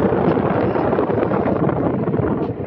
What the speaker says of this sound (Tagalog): Malamig ngayon, sobrang hangin.